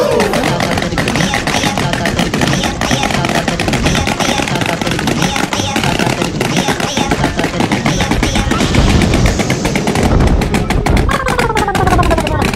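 A long, dense string of Diwali firecrackers crackles nonstop, loud and rapid, with voices and background commotion underneath throughout.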